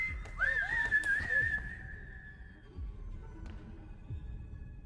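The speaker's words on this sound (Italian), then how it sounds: "Che fa, fischietta?" In the horror game Remothered: Broken Porcelain, a character whistles a short wavering tune over a low throbbing heartbeat-like pulse, the melody fading after a couple of seconds while the dull thumps continue.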